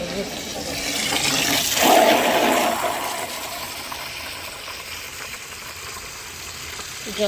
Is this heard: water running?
yes